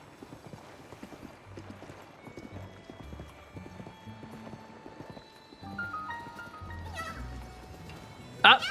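Horse hooves clip-clopping steadily in Tears of the Kingdom, followed by a short loud whinny near the end, over layered game music and a speaking voice.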